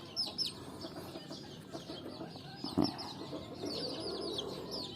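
Young chickens clucking softly in a farm setting, with scattered chirps and clucks at low volume and a brief louder sound partway through.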